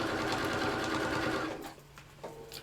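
A sewing machine runs a steady, loud stitching line down a seam to enclose it, then stops after about a second and a half, leaving a few small clicks and handling noises.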